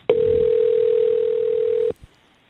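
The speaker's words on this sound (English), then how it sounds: "we have the ringing in there" A single steady ringing tone on a recorded phone call, one continuous loud beep lasting nearly two seconds before cutting off, followed by faint line noise.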